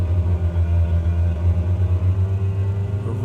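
Turboprop engines of an Embraer 110 in Microsoft Flight Simulator hum and rumble at low power after the throttles are cut, a steady droning tone with a heavy low throb, close and constant.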